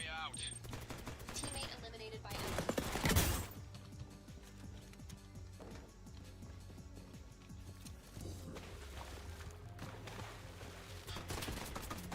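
Rapid bursts of gunfire in the video game Off the Grid crackle over a steady electronic background, with one loud flurry of shots near the start and more scattered fire afterward.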